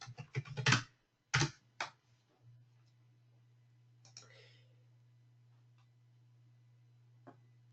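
Fast clicking keystrokes on a computer keyboard come in short bursts close to the mic, then stop, leaving a low steady hum with a few isolated later clicks.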